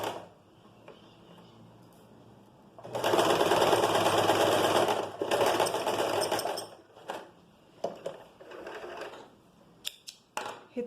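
Sewing machine stitching a pleated skirt, running in a loud continuous burst of about two and a half seconds with a short pause in the middle, followed by softer intermittent clicks and mechanism noises.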